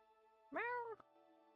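A single cat meow, close and clear, rising then falling over half a second, with quiet before and after.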